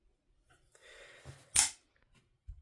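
A titanium-buttoned OTF knife with a Damascus clip and buoy-shaped blade fires out in one sharp, loud snap, with softer mechanical shuffling before and a small click afterward.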